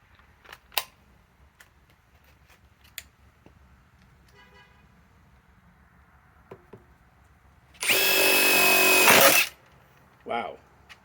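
A Metabo HPT cordless impact wrench running on a small 3 amp battery fires one loud, sustained hammering burst of about a second and a half, then a brief second burst after a pause. Quiet handling clicks come before it.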